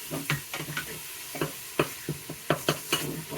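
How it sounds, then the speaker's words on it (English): Two pounds of 80-20 hamburger meat browning in a pan, with repeated scraping and stirring knocks at an uneven rhythm over a steady low sizzle, close and moderately loud. "I want it browned extremely well."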